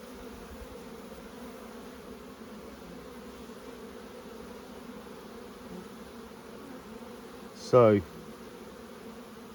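Buckfast honey bees hum in a low, steady drone throughout an open hive inspection, with one bee zipping close past near the end in a brief, louder buzz, and a voice speaking a single word.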